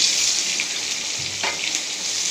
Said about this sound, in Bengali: আমি পেঁয়াজ কুচিটা আমি দিয়ে দিচ্ছি তেলে